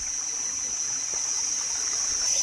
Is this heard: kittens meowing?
no